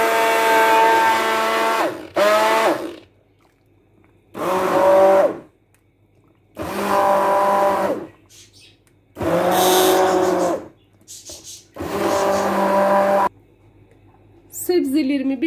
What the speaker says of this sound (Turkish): Haşlanan sebzelerimi derince bir kaba bıraktım. Onları blenderdan geçireceğim.